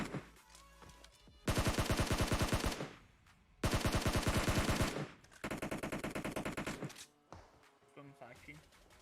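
Gunfire in a PUBG Mobile firefight comes as loud, close bursts of rapid automatic fire in three long volleys, separated by short gaps, with a voice talking underneath.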